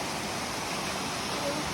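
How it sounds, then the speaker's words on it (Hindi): Double Falls in Silver Falls State Park, Oregon, pours down in two tiers, giving a steady, even hiss of falling water heard from close by with no break in the roar. "ये जो झरना है ऊपर से 2 बार गिरता है"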